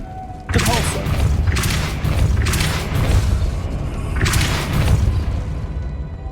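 In the Hogwarts Legacy video game, a Depulso spell cast lands with a heavy booming thump, followed by several more bursts of crackling impact and rumbling mechanisms. The game sounds are loud and dense, and a voice speaks among them.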